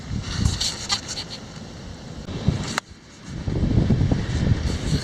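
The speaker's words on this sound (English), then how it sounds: "the wind's going to pick up every time I turn this camera on" Wind buffets a microphone outdoors during a solo metal detecting trip, producing loud low rumbling gusts that rise and fall, with a sharp knock midway and a brief lull before the blustery roar returns.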